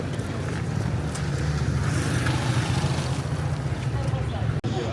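Busy street traffic moves through the Marrakech Medina, a continuous rumble of passing engines mixed with wind buffeting on the microphone. A voice talks over part of it, and the sound drops out briefly near the end.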